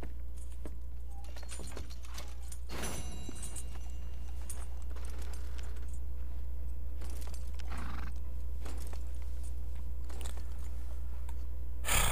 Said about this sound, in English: Hey, you're a shit horse.